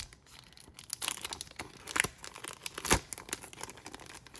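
A sheet of vellum paper from a planner subscription box being handled, crisp crinkles and rustles in short bursts with a few sharper crackles, close up and fairly quiet, with no voices.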